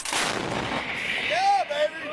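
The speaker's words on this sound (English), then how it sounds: "M777 Howitzer artillery engages Taliban from shooting mountain with direct hit" An M777 howitzer firing during a live-fire engagement on a mountain, heard as a loud sustained blast and rumbling roar with a whistling whine toward the end, no voices.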